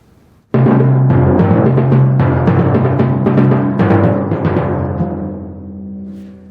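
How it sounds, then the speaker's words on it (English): Timpani struck at forte, a run of resonant drum strokes starting after a brief silence, full and booming, then sustaining and slowly decaying toward the end. "So a great sound at a forte would sound like this at the beginning."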